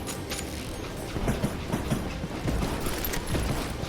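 A train rolling along rails in the video game Call of Juarez: Gunslinger, a steady rumbling roll with faint rhythmic clacks, moderately loud and continuous, with no voices.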